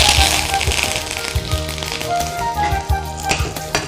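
Curry leaves crackle and sizzle in hot tempering oil for a Telugu eggplant and sesame chutney, a close, busy spatter of pops over a continuous frying hiss.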